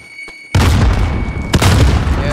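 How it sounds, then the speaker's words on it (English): A grenade explodes in the shooter Warzone with a sudden loud boom after a quiet moment, followed by rumbling gunfire and a second sharp blast. "Grenade!"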